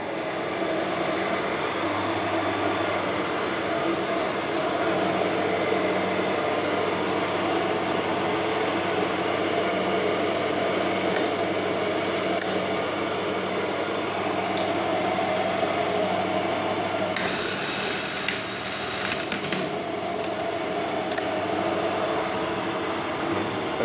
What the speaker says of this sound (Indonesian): sekarang kita tes suara mesinnya seperti apa